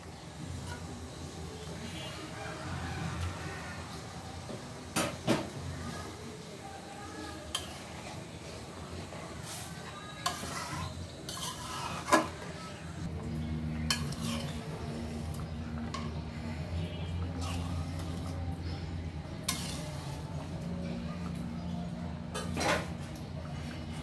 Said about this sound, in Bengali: এখন দিয়ে দিব ভাজা মাছের মাথাগুলো।